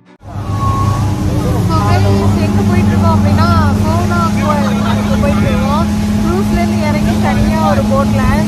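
A speedboat runs fast across the water of Ha Long Bay in Vietnam, its engine droning steadily and loudly, with excited voices talking over the motor.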